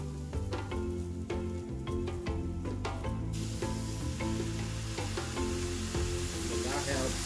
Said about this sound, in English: Add my coconut milk.